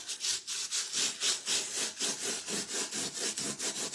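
Salt being rubbed off a surface by hand makes a rhythmic, close, dry scrubbing, with about a dozen quick back-and-forth strokes in a steady pulse and no talking.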